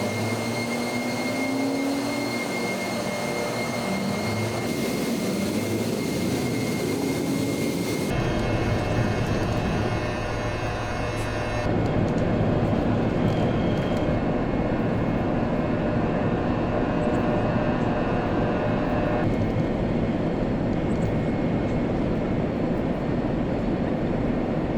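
Airbus A320 jet engines roar steadily during a steep climb-out in Microsoft Flight Simulator, a loud continuous broadband rumble and whine that shifts in tone partway through, with no talk.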